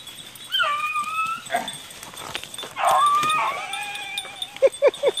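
Beagles on a rabbit hunt whimper, whine and yip close by in high, wavering cries, ending with a few short sharp yelps.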